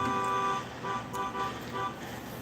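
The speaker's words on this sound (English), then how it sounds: "Someone's honking at someone" A car horn honks outside a building, heard from a distance as a few short toots in an uneven pattern, faint against the indoor background.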